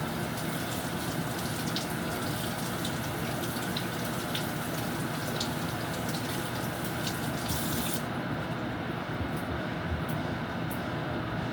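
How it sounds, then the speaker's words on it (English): Okra being rinsed under running tap water in a home kitchen, a steady broadband rush of flowing water that continues throughout and turns softer and duller near the end, with no talking. "Make sure I wash these okra properly."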